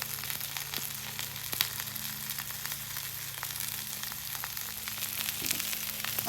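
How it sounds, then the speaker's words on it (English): Pork tenderloin shallow frying on a griddle in bacon grease and avocado oil, giving a steady, close hiss and crackle that holds evenly throughout with a few sharper pops and no talk. "And now the time for the pork. Just like a shallow fry."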